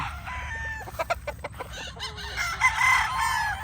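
Young banded rooster stags, a local Gilmore cross, crow in short raspy bursts with clucking and other fowl calls around them, fairly close in a farmyard setting.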